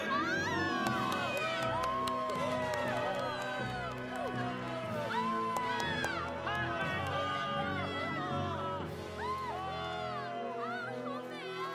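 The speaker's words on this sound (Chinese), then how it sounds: "掌声有请依琳。" An audience cheers and shouts in a welcoming burst, a dense crowd sound running steadily beneath an excited voice speaking over it the whole time.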